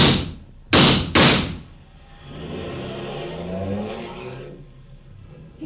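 In a radio drama, a car door slams twice in quick succession, then an engine starts and revs as the car pulls away and fades into the distance.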